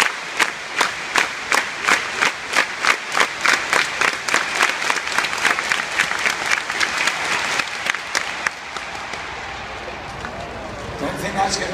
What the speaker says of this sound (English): For the double clap.